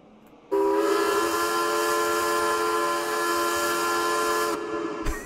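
A loud, sustained whistle-like car horn blast from a Lamborghini Diablo GT in a realistic open-world video game, with layered steady tones, holding for about four seconds before cutting off abruptly.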